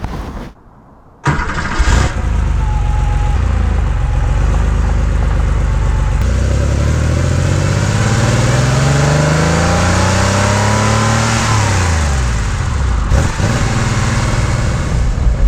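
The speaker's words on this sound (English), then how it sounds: "little example where I kind of pop the throttle as I'm going into second gear" A Porsche 911 3.2 Carrera engine sounds loud and close from the driving seat, with a throttle blip during a shift into second gear, then a sustained engine note whose pitch sweeps up and down as the car accelerates.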